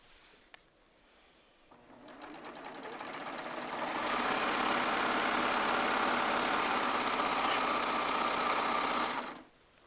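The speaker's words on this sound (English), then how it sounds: "I'm going to sew these together right here." A sewing machine stitching strips of batik fabric together runs in a steady, continuous mechanical whir. It starts quietly, builds to full speed, holds there for several seconds, then stops abruptly. No one talks.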